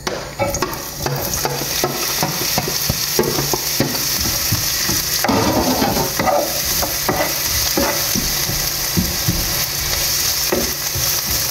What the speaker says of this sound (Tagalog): mainit na ang ating oil. Ilagay na natin yung sibuyas.